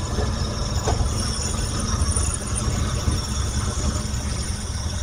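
A car engine running steadily after being restarted while it is short on fuel, a close, even idling rumble that holds without a break.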